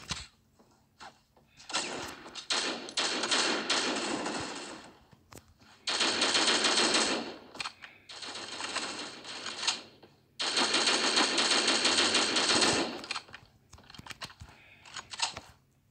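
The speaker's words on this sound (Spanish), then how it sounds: "Le metió dos tiros." Gunfire from the video game Critical Ops comes in several sustained automatic bursts, each a few seconds long with short pauses between, crisp and fairly loud over faint background clicks.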